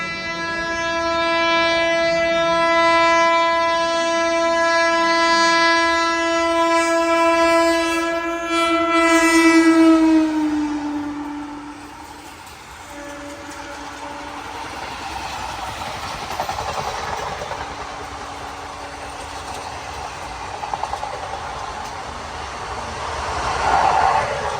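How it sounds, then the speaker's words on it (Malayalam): An oncoming train from Malda sounds a loud, sustained horn with strong harmonics for about ten seconds, then fades into the rumble and clatter of the passing carriages. "ബർസോയി, അതായത് മാൾഡ ഭാഗത്തുനിന്ന് ഒരു വണ്ടി വരുന്നുണ്ട്."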